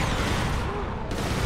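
Gunfire from the video game Resistance 3 crackles in a dense, continuous burst of shots, mixed loudly with other battle noise and a shouting voice.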